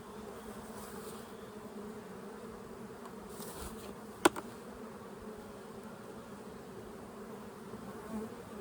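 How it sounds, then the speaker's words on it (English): Honey bees buzz in a hive box, a dense steady drone that holds for the whole stretch, with one sharp knock near the middle. "That's a box of bees."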